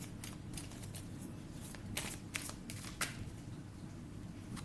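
Tarot cards shuffled and drawn by hand, a soft continuous riffling with a few sharper card snaps and flicks standing out, close and quiet, with no talking.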